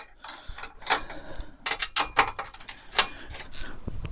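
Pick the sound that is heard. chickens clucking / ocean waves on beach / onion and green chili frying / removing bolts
removing bolts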